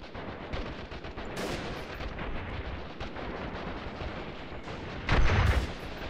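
Grenade explosions and gunfire in the video game Freeman Guerrilla Warfare: dense, continuous shooting with sharp cracks throughout and a heavy, close blast near the end.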